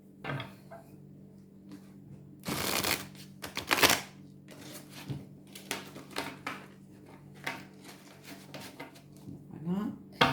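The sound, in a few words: shuffling and cutting shiny oracle cards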